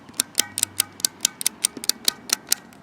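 Push-button clicking mechanisms from a dishwasher control panel, pressed by hand in a steady run of about a dozen crisp, close clicks with no talking.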